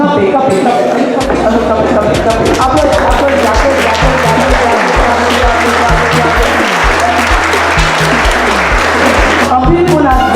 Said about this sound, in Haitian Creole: C'est là que tout le monde campé et que nous applaudissons très fort.